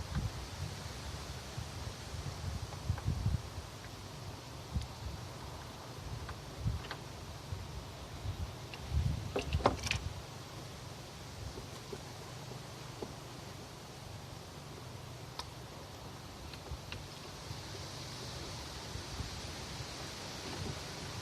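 Steady wind blowing hard with gusty rushing and rustling, no voices, moderately faint and continuous.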